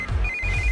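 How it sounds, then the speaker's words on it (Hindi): A phone rings with a steady, bright electronic trill, close and clear over a low rumbling background, no talking. "इस वक्त दीदी का फोन।"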